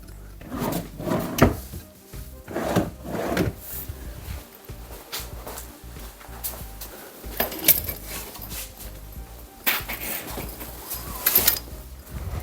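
Small drawer in the wooden armrest of a sofa trimmed with oak-colour chipboard panels, slid open and shut repeatedly, giving a series of close knocks, rumbles and sliding thumps with an uneven rhythm and no talking.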